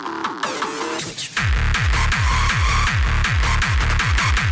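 A heavy, punchy hard techno kick drum pounds in a fast, steady four-on-the-floor rhythm, loud and distorted, after a brief busy intro.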